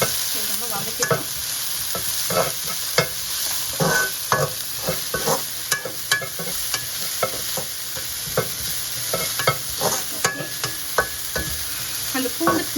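Garlic and onions saute in a pan for a roadside-style mushroom snack, with a steady sizzle broken by repeated scraping stirs in a loose, uneven rhythm, close and fairly loud, with no voices.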